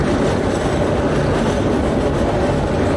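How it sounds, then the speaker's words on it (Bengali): A slow passenger train between Kurigram and Chilmari in Bangladesh, heard from on board as a loud, steady rumble with dense rattling of the carriage throughout. "এখন বাংলাদেশের সব থেকে স্লো ট্রেনে ভ্রমণ করতেছি, যেটা ঘন্টায় 10 স্পিডে যায়"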